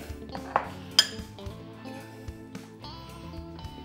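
A spoon clinks and scrapes against a dish while scooping stuffing for a farm guinea fowl, with soft irregular taps and one sharper clink, close and fairly quiet.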